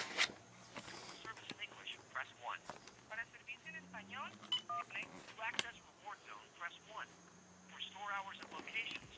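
Telephone keypad tones while phoning Best Buy, short beeps scattered among an automated phone voice and line audio, faint and thin through the handset.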